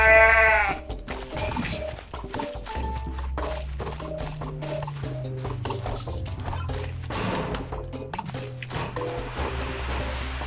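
A goat bleats loudly in Goat Simulator, a wavering cry at the start followed by more bleats amid busy game sounds, clattering effects and background music.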